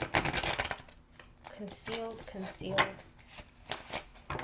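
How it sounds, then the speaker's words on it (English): Crisp riffling and flicking of a tarot card deck being shuffled several times in quick bursts, with a voice talking softly in between. "this deck is actually super easy to shuffle"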